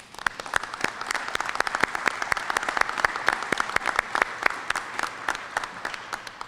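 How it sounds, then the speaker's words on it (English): Dense, steady applause from an indoor crowd honoring city employees at the opening and ribbon cutting of the Oshkosh Field Operations Facility, a continuous wash of many hands with sharper individual claps standing out throughout. "I think they deserve a round of applause"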